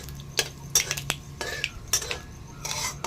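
Mustard seeds and cumin are stir-fried in a pan over a low flame, with a metal spatula clinking and scraping against it in irregular strokes over a faint sizzle.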